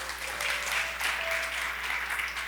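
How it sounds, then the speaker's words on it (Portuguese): Congregation clapping during a church service, a steady wash of many hands at moderate distance over a low constant hum, with a faint voice briefly audible. "Uma salva de palmas para Jesus"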